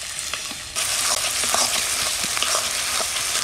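Chicken biryani ingredients fry and get stirred in a pot over a high village cooking fire, giving a loud, steady sizzle that jumps up partway through, with scraping stir strokes and no talking.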